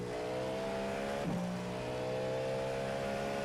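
Cadillac GTP prototype race car in the iRacing simulator: engine droning at a steady high pitch, then a quick downshift blip and a drop in revs before it settles again, continuous and upfront.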